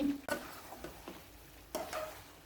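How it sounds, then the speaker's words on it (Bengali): Boiled potatoes dropped into hot oil in a pan for Bogura-style Alu Ghati, giving a soft sizzle and a couple of sharp clattering bursts as they land and are moved, with quieter frying between. "এখন আমি আলুগুলো দিয়ে দেব। এগুলো সিদ্ধ আলু।"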